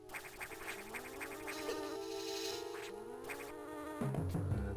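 Flying insect enemies buzz in Metroid Fusion, a steady whirring hum layered over game music and effects, with a low thumping burst near the end.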